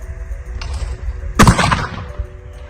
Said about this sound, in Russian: мишень летит, контролирует и выстреливает